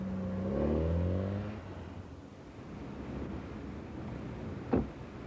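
A car engine revs up with a rising, wavering pitch that fades after a couple of seconds into quiet ambient hiss, then a short sharp knock near the end.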